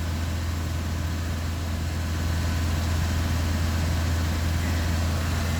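A Vauxhall Corsa 1.3 diesel engine idles steadily through a forced DPF regeneration, a close, constant low drone with no change in pace throughout.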